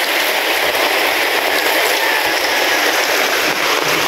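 Steady, dense rain pouring onto a house roof during a downpour, a loud continuous hiss with no breaks, close and unbroken throughout.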